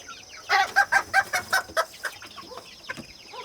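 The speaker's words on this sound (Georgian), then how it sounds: "იაპონური მამალი" A Japanese bantam rooster gives a quick series of sharp clucks, about a dozen in a rapid burst that trails off, close and loud.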